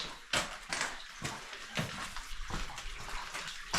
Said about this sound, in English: We got some running water through here.